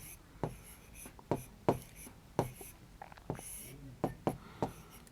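Chalk tapping and scratching on a classroom board in quick, separate strokes as a teacher writes a number, close and crisp, with short pauses between marks.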